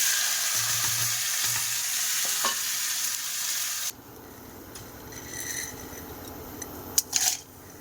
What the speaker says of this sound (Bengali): এখন আলুটাকে ভালোভাবে ভেজে নেব